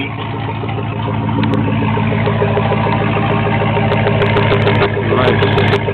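Loud, rough idle from a Chevrolet Z71 truck running open exhaust with the muffler removed, a deep steady rumble with uneven pulsing throughout, heard close up.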